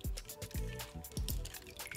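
Crumpled aluminium foil dipped in water, giving a run of distinct wet drips and small splashes, several separate drops falling close and fairly quiet, with no talk.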